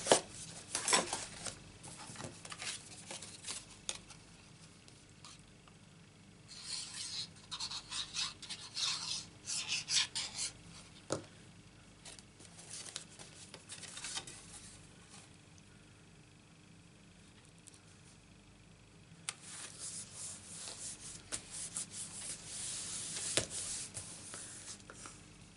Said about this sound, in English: we're going to glue this onto our card base, which I need to burnish